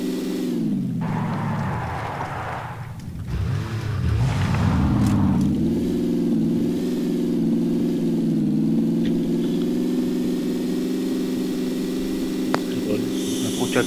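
A car engine in PUBG settles into a steady mid-pitched droning hum after a few seconds of rougher revving and noise, running loud and continuous to the end.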